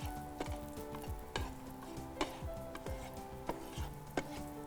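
Raisins being lightly roasted in a pan give a steady sizzle, with repeated scraping stirs of a utensil at a regular rhythm, close and fairly loud, with no talking.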